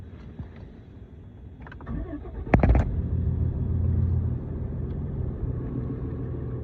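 A Ram pickup's 6.7-litre Cummins diesel engine cranks briefly, catches with a sharp burst, then settles into a deep, steady idling rumble nearby.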